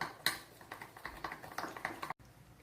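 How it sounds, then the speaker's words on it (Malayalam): Spoon clinking and scraping in a bowl while banana fry batter is stirred with sugar, salt and milk, a quick irregular series of light taps, close and fairly quiet. "1/2 സ്പൂൺ പഞ്ചസാര, 1 പിഞ്ച് ഉപ്പ്, 2 ടീസ്പൂൺ പാല്. ഇത്രയും കൂടെ ചേർത്ത് ഇത് നന്നായിട്ടൊന്ന് മിക്സ് ചെയ്തെടുക്കുക."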